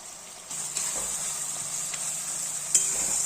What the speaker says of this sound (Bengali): এইভাবে মশলাটাকে কষিয়ে নেবে যতক্ষণ না মশলাটা থেকে পুরোপুরি তেল ছাড়ে